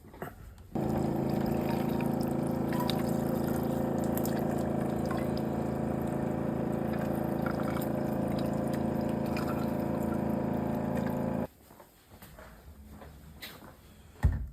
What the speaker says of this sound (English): So let's fill our water bottle up.